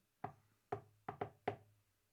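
Five knuckle knocks on a door in the classic shave-and-a-haircut rhythm, crisp, close and distinct, with a quick pair in the middle and nothing else around them.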